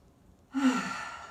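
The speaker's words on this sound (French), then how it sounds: "je vais faire 3 grandes respirations" A single deep breath during vinyasa yoga practice: silence, then one long, breathy exhale that fades slowly, close and clear.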